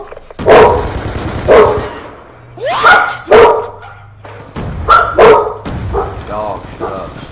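A pet dog named Sophia barks repeatedly close by, sharp yips and bow-wows in bursts, while people talk and react during an online Black Ops 2 match.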